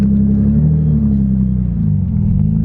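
A crashed Nissan Skyline's engine rumbles low and steady, close by and loud, as the car pulls away toward the shop.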